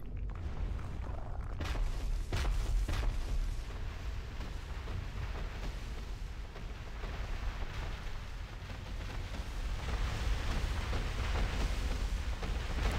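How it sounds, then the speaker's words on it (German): An explosion in the video game Dark Souls II, heard as a loud, rumbling blast that opens with sharp cracks and then settles into a long, dense roar that fills the whole stretch without any talking. "die Explosion war neu."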